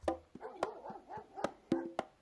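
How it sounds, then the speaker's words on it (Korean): A dog barks faintly in short, irregular yaps far off in a quiet night setting, about six barks spread over a couple of seconds. "어디선가 멀리서 아마도 교회에서인지 개 짖는 소리가 겨우 들려올 뿐이다"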